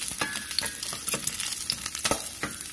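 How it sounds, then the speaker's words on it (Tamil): Dried red chillies and garlic frying with mustard seeds in a pan for paruppu sambar: close, crackling sizzle with several quick scraping stirs in a loose rhythm. "ரெண்டு காஞ்சி மிளகாய், நாலு பல் பூண்டு, இதெல்லாம் சேர்த்துட்டு ஒரு வாட்டி நல்லா கலந்து விட்டுருங்க"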